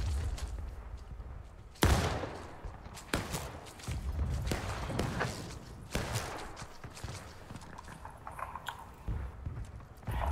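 Musket gunfire in the Civil War game War of Rights, with several sharp reports among a crackling, rumbling battlefield din, some shots close and loud, others more distant, no talk.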